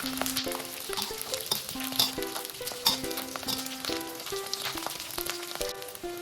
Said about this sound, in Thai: พอน้ำมันฮอนแล้วเราก็เอาปลาหมึกลงไป แล้วก็ทอดให้มันสุก